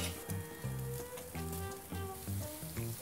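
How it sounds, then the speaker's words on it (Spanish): Pork chuck searing on a grill over direct heat, a soft continuous sizzle with faint crackling, heard beneath a musical backdrop, with no talking. "Voy a sellar la aguja a fuego directo"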